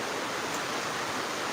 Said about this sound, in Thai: ฝนตกหนักมากครับผม